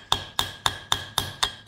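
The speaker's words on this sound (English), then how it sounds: "hammer it down with your hammer" A hammer strikes a chisel into a clay block from a zombie excavation kit, seven sharp, evenly spaced taps close by with a bright metallic ring, no talking.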